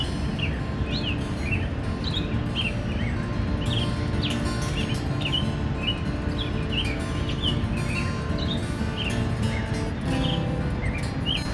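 Quick, high bird chirps repeat throughout in short bursts, moderately near, over a quiet, continuous outdoor background at sunset by a tent at Hetch Hetchy Reservoir.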